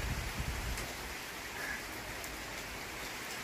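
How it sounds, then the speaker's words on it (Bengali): Rain falls outside in a soft, even hiss heard from indoors, fairly quiet and steady, with a few slightly heavier patters near the start. "মানে দেখছি বাইরে কি সুন্দর বৃষ্টি হচ্ছে।"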